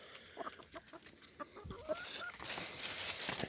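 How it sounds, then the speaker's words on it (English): Chickens clucking close by outdoors during cherimoya picking, a series of short irregular clucks and soft calls, one rising squawk, over light background rustle. "Chickens are interested."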